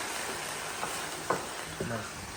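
Quail karahi sizzles steadily in a hot pan, a dense frying hiss with a few close stirring scrapes breaking through.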